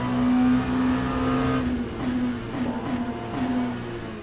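GTE race cars battling for the lead in Le Mans Ultimate at Sebring, a loud close engine howl holding a steady pitch, then dipping as revs fall and rise again through rapid gear changes.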